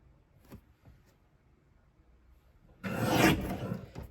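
A paper trimmer slicing a sheet of handmade cardstock for a card kit, heard as a short faint tap or two, then a loud, close rasping cut sweep lasting about a second.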